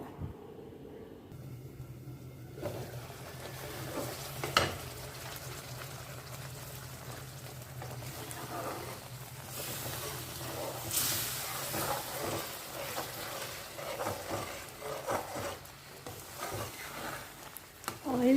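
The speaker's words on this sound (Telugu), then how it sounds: "ఇప్పుడు దీన్ని బాగా దగ్గర పడేంత వరకు బాగా మరిగించుకుందామండి ఉడికించుకుందామండి చింతపండుని" Tamarind simmers in a pot on the stove for pulihora, giving a soft, steady bubbling and sizzle with occasional stirring scrapes, close and moderately quiet.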